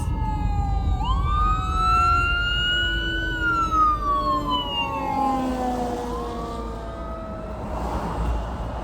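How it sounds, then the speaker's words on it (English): Wailing sirens from a fire truck and an ambulance sweep up and down in pitch as the emergency vehicles pass close by on the road, loud at first and then fading slightly, with traffic rumble underneath. "Fire truck, ambulance."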